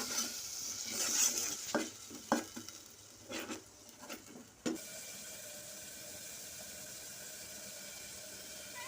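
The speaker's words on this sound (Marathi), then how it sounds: "हे तयार केलेलं वाटण हे टाकून चांगलं तेलामध्ये भाजून घेऊ." Ground masala paste fries in oil in a pan for a Maharashtrian katachi amti, with scraping stir strokes and clatter over a faint steady sizzle that continues alone once stirring stops.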